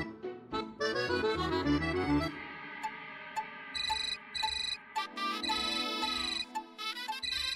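A melodic phone ringtone plays loud and close, cycling through repeating musical phrases with bright tonal chimes and no talk over it.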